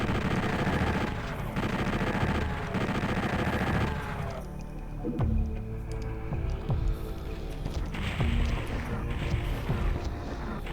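Heavy gunfire and explosions fill the Doom level in PlayStation Doom Reloaded as rapid shots and booming blasts layer over a droning game soundscape, loud throughout and easing somewhat midway.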